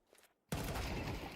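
Rifle fire in Counter-Strike 2: after a quiet moment, a sudden loud, close shot erupts and rings on as a dense, sustained blast of gunfire, with no voices.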